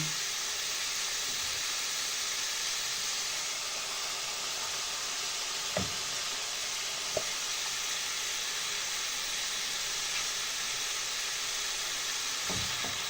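Onion sizzles steadily in a hot pan for a mushroom sauce, a broad even hiss throughout with a few faint clicks and knocks near the middle and end, no one talking.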